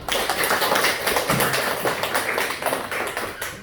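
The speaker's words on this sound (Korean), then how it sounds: "박수 한번 할까요?" A congregation at a church teaching session claps together, a loud, close burst of many hands that fills the whole stretch and then slowly thins out.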